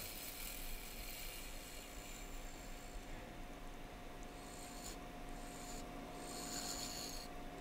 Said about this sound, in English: So making some passes with the bowl gouge